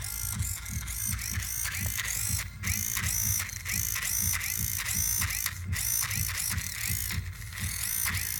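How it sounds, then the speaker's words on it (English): A LewanSoul LX-16A servo jumping between random positions, driven from an EZ-B v4 controller, gives loud, repeated whirring gear bursts with short pauses between moves. "So we'll run that, and the servo is going to jump around."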